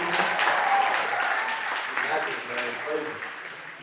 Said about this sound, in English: Another round of applause for Preston